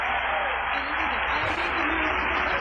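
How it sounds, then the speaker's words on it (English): A dense, steady wash of audience applause, heard somewhat muffled, with a voice talking over the clapping. "They're applauding for the mirror has two faces."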